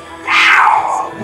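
A cat at a menagerie gives one drawn-out, loud, close meow that rises and then falls away, with no talking over it.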